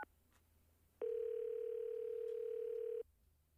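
A telephone dial tone sounds steadily for about two seconds as a single clear, unbroken pitch, then stops abruptly, against quiet background noise.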